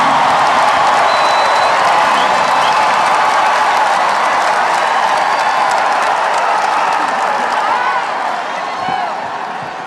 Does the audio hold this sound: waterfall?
no